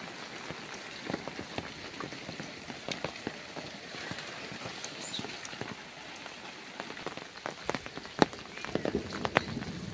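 Heavy rain falls in a noisy, continuous patter, with irregular sharper drops and knocks rising through the wash and no talking.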